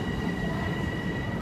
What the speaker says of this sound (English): Alright, my train is here.